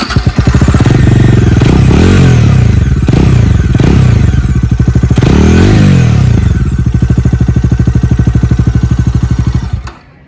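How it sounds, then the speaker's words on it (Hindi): A Bajaj Dominar 250 motorcycle revved repeatedly through its exhaust, several sharp throttle blips rising and falling over a loud, close engine drone before it cuts off abruptly at the end. "गाड़ी का एग्जॉस्ट साउंड सुना देता हूँ मैं कैसा आता है"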